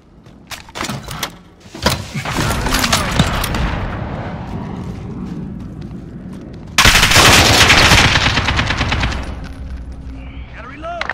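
Heavy automatic fire from a VTOL support aircraft in Call of Duty: Modern Warfare, two long loud barrages of rapid shots with booming impacts and battlefield noise between them.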